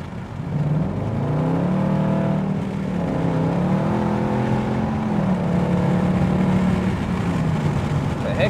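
Dodge Durango RT with a 345 Hemi V8 revving through hard pulls on city streets, a loud, sustained engine roar rising and falling in pitch over several seconds, heard from inside the vehicle.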